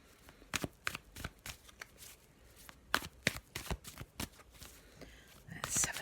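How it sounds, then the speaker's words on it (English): A black and white Faulkner tarot deck being shuffled by hand, a run of crisp, quiet riffles and card taps in an irregular rhythm, close and soft, with faint breathy sounds between. "I'm just going to have a little shuffle of the black and white Faulkner deck as usual."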